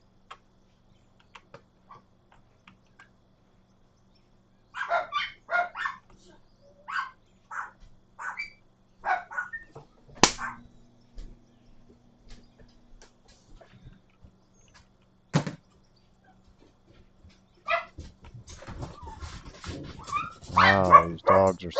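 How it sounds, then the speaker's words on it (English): Several dogs bark in short, sharp bursts, with yips and a whimper mixed in, fairly close, the barking turning dense and frantic near the end. "They bark at nothing all the time."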